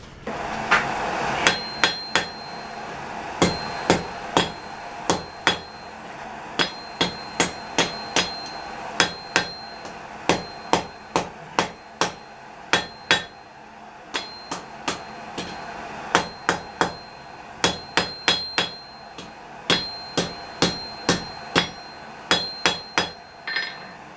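Hammer blows on hot steel while forging a bushcraft knife, a long series of sharp, ringing strikes in uneven bursts, close and loud with short pauses between runs.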